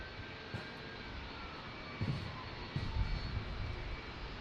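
FedEx Boeing 757 jet airliners near a San Diego airport, heard as a continuous distant roar of jet engines with a steady whine, swelling slightly as brief outdoor bumps and gusts pass.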